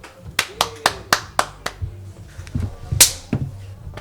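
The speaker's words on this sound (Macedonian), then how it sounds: "Еден аплауз за Јане Тодоровски." Audience applause for a comedian in an improvised studio, a run of sharp, distinct hand claps close by, several people clapping unevenly over a few seconds.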